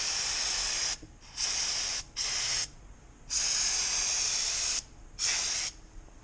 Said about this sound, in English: if I spray it with some brake cleaner